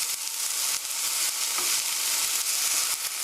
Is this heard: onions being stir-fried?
yes